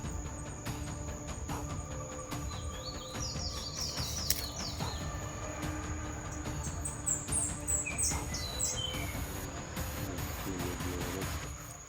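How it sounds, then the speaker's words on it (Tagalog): Birds calling from high in the trees outdoors, scattered chirps and short whistled phrases heard at moderate distance over a steady broad rumble of background noise. "doon sa taas ng kahoy yung klaseng klaseng mga ibon ayun ibon yan"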